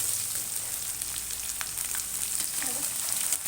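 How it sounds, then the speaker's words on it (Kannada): Onion and green chili frying in a pan, a continuous bright hiss of oil with small crackles and pops throughout, steady and close with no one talking. "ಈಗ ನಾನು ಈರುಳ್ಳಿ ಮೆಣಸಿನ ಸೇರಿಸ್ತೀನಿ"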